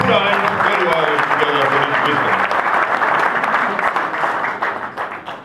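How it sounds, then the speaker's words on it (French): Loud sustained applause from a church audience at an official launch event in South Africa, dense clapping with voices and cheers mixed in, easing slightly toward the end. "Est-ce qu'on peut très bien applaudir quand même pour cette sagesse?"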